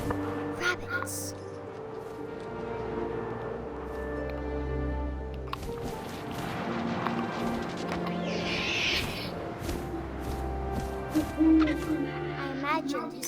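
An owl hoots in the video game What Remains of Edith Finch, soft calls set against wind and a low ambient bed, with a voice narrating over much of the sound.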